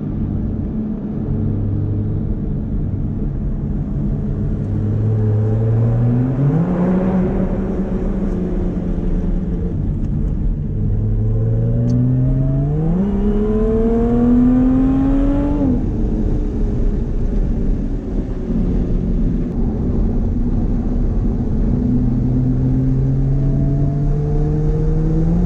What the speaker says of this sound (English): These tires are really noisy right around 50 miles per hour.